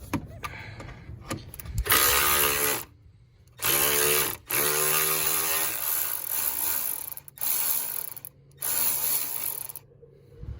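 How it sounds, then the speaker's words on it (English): Ratchet wrench turning out 10mm bolts on a 1995 Plymouth Voyager radiator shroud, several bursts of rapid clicking separated by short pauses, close and fairly loud. "now there's two 10mm bolts. That one there, and then on the other side, over here for the shroud. So let's take those out."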